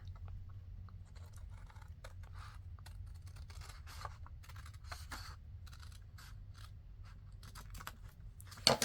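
Scissors snip through paper for a simple folio with pockets and tags, giving faint, irregular crisp cuts over a low steady room hum, ending in a slightly louder rustle.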